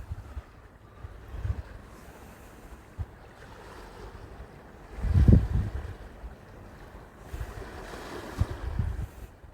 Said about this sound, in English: Just the gentle sound of the waves lapping.